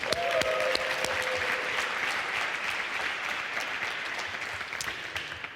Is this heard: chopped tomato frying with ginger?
no